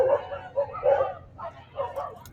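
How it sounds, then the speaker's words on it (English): Several dogs bark and yip in short, bouncy bursts at a park, moderately near and repeating irregularly, with little else around them. "sorry if the mic's picking up all those dogs"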